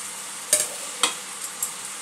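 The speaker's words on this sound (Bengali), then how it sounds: "একটু মিশিয়ে নিচ্ছি।" Capsicum stirred into fried potato and onion in a hot pan, a soft sizzle beneath a few distinct spatula scrapes and taps spaced about half a second apart, close and unaccompanied by speech.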